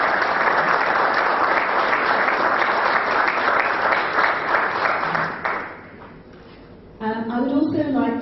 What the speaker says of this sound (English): So I'd like you to give them a big round of applause for me.